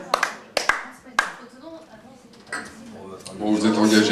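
A few sharp hand claps ring out in a bar, separated by pauses, followed by a swell of scattered clapping and chatter as voices talk.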